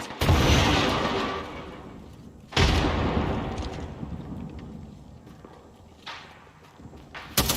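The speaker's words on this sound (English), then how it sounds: "Grenade out!" A grenade blast in the shooter Apex Legends, a loud broadband boom that opens the moment and then rolls off. A second heavy explosion lands a few seconds later, and a smaller burst follows near the end, with no voices over them.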